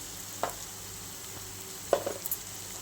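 Spices fry in a pan for a mango rice dish, a soft steady sizzle with a few sharper crackles and stirring knocks, close and fairly quiet with no talking.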